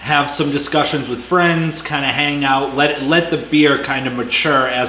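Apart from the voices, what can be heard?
No distinct noise like a dog, phone or traffic.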